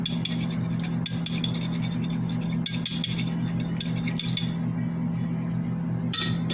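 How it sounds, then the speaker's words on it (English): A utensil stirs a hot dishwashing liquid solution in a container, giving repeated light clinks and scrapes against the sides over a steady low hum. "Give it a little mix. It's still hot, so let me use something else. But give that a little stir."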